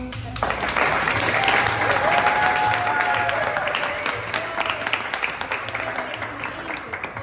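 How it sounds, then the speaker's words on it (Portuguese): Steady applause from a theatre audience fills the room, a dense wash of clapping with a faint murmur and tonal sounds underneath. "Palmas."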